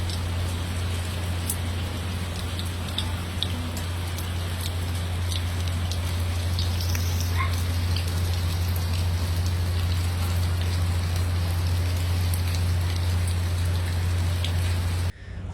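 Heavy rain falls during flooding on Ibiza, a dense, unbroken hiss of drops on surfaces with a low steady hum beneath it, lasting throughout with no voices.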